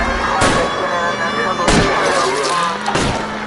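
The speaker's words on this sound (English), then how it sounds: "I'll try to shoot out his tires." Three sharp gunshots at a fleeing car's tires in the video game L.A. Noire ring out about a second apart, loud and close, over a continuous bed of game engine and ambient noise.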